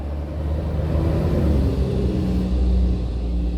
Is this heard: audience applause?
no